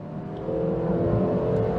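A 2006 Suzuki Swift Sport accelerates on a track, its engine note rising in a loud, close, steady revving whir over a couple of seconds.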